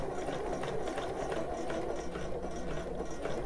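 A sewing machine stitches bra fabric, then runs off a few stitches to form a thread chain, giving a steady, even mechanical whir close by with no voices.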